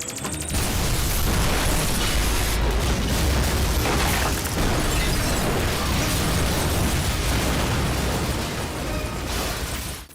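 A booby-trap bomb blows up a technology centre in a video game, setting off a loud, sustained explosive roar that fills about ten seconds with rumbling and crumbling debris.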